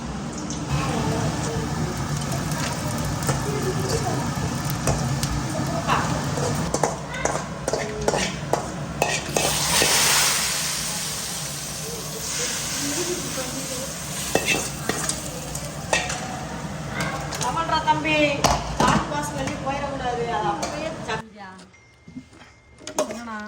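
Steady frying sizzle of tempering spices in hot oil for a fish curry, with stirring scrapes and occasional clinks of a pan, continuing throughout with a brief quieter moment near the end.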